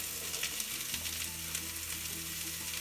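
Onions, celery and carrot frying in a pan for fried rice, a soft continuous sizzle with faint crackles, quiet and close, no voices.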